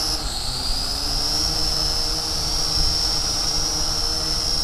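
A Lishitoys L6055 toy quadcopter drone hovers under continuous throttle, its small motors giving a steady, high-pitched whine that holds nearly constant throughout, close by with no talk.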